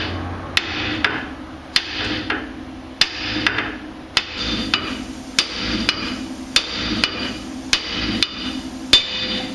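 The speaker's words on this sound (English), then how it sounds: "provide this nice little spot right here for you to hit with a hammer to get this off" Repeated hammer blows on a Jeep steering knuckle during a brake and steering conversion, about a dozen sharp metallic strikes at irregular intervals over nearly ten seconds, close and loud.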